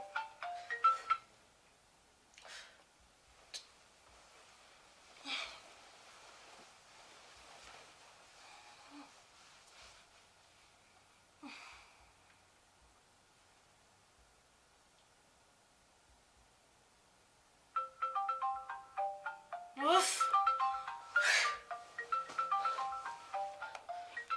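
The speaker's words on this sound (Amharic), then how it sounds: "አንቺ ስልክሽ እየጠራ ነው።" Faint clicks and rustles, then a phone ringtone starts playing near the end, a bright repeating melody at moderate volume.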